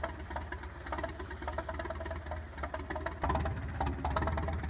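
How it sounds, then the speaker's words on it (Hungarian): An old tractor engine idles in the farming game Farming Simulator 22, set in 1922, giving a steady low chugging putter with a regular knocking pulse that runs throughout and grows slightly louder near the end. "nagyon jól néz ki az a traktor, és ott pöförészik"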